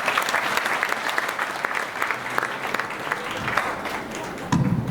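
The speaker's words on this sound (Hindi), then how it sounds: "उनके लिए भी ताली बजा दो।" Audience at a Hindu religious discourse (katha) in an ashram hall clapping steadily; dense, continuous applause at moderate level for about five seconds, with a brief louder burst near the end.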